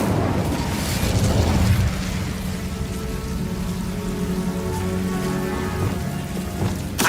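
An Incendio fire spell blazes in Hogwarts Legacy, a loud sustained crackling roar like heavy rain over a deep rumbling boom that opens strongly, then settles into steady flame noise.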